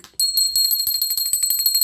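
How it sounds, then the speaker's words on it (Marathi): A large brass pooja bell is rung rapidly and continuously, its bright, sustained metallic tone close and clear, with no talking. "सर्वात मोठी खूप मोठी घंटीनाद करणारी घंटी आहे"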